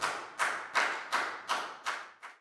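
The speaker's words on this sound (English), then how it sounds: "And a round of applause for everyone for doing a great job." Classroom round of applause during a Year 4 science lesson: about six short, evenly spaced bursts of clapping, each fading quickly, sounding like a small group clapping in unison, fairly faint and with no talk.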